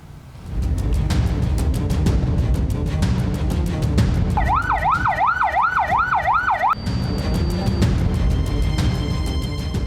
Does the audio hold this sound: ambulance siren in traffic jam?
yes